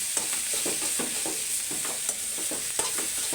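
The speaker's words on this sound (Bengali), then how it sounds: "শাকটা আমার প্রায় হয়ে এসছে এখন নামাই নিব আর কিছুক্ষণ নাড়াচাড়া করে" Chickpea greens being stirred in a hot pan, a continuous soft sizzle broken by repeated spatula scrapes and turns at close range.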